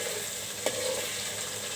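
Red lentils sautéing in a pan give off a steady, even hiss, with one soft scrape of a spoon partway through.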